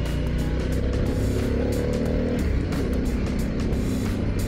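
A 2022 Harley-Davidson Pan America 1250 Special ridden in sport mode, its engine giving a continuous, loud, low droning rumble that holds steady throughout, mixed with rushing wind noise as heard from the rider's seat.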